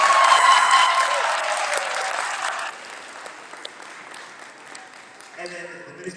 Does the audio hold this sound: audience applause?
yes